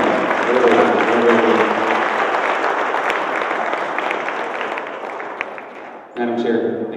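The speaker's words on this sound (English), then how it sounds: "Can we give her a big round of applause" An audience claps at a Job Creators Day event in the New Mexico State Capitol, a loud, dense wash of applause that fades gradually before a voice starts talking near the end.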